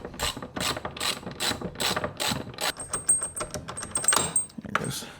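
Rapid ratchet wrench clicks in repeated bursts as a bolt on a motorcycle mount is loosened, close and fairly loud, with brief pauses and small metallic rattles between strokes; no speech.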